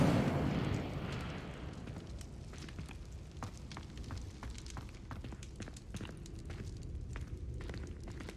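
A fire spell cast in the video game Hogwarts Legacy: a loud roaring burst at the start that settles into a steady crackling, sputtering fire with sharp snaps throughout, no voices.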